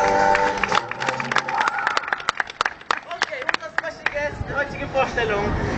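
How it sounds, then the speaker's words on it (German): Street crowd at a dance show at Alexanderplatz in Berlin clapping and cheering, with sharp individual claps standing out over crowd noise and people talking and calling out throughout. "Einen Applaus für Müsli."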